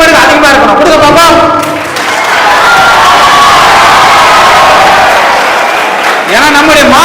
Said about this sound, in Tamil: இந்த காவல்துறை நண்பர்களுக்கு உங்களுடைய கரகோஷம் எப்படி திரும்ப இருக்கணும், 2 மடங்கு அதிகமா இருக்கணும்